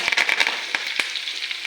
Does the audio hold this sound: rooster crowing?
no